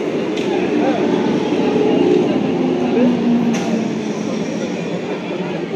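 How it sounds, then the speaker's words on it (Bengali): A nine-coach Naihati–Majerhat electric local train pulls in at platform 2 of a station, a loud, steady rolling rumble and wheel noise that fills the scene throughout. "নৈহাটি মাঝেরহাট লোকাল 2 নম্বর প্ল্যাটফর্মে আসছে"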